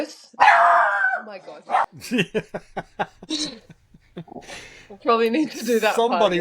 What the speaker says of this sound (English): Sorry, that was my dog.